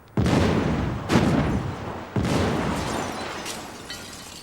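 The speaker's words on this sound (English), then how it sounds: "The explosion will be on the screen for just 10 seconds" Staged film explosions at a remote gas station, three heavy booming blasts about a second apart, each followed by a long roaring decay.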